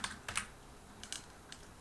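Short bursts of quiet, close keystrokes on a computer keyboard, with soft clicks in quick clusters separated by brief pauses.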